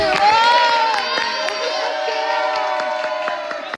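A crowd at a Met Gala party in a house cheers and shouts loudly and steadily for several seconds, dense and close, with some scattered clapping.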